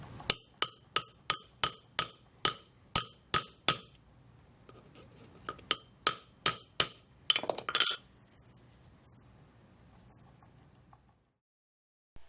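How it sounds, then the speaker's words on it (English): A small hammer lightly brads a snipped rivet on a handmade leather fidget spinner: about a dozen sharp metallic taps in a steady rhythm, then a second burst of quicker taps, close and crisp, followed by quiet. "So I'll snip that rivet off on the back side and just lightly brad it."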